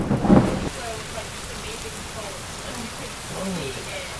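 A thunderstorm brings a loud low thunder crack at the start, followed by a steady hiss of rain.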